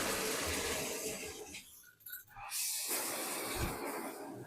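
Cold tap water runs into a bathtub while screen-printing screens are washed out, a steady broad hiss that dips briefly in the middle before pouring on again.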